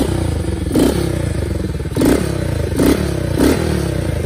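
A Honda motorcycle engine runs at a steady idle, its low, even throb broken by four short revs spaced through the stretch, with no voices.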